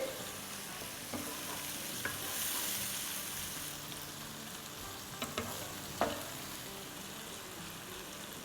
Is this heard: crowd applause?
no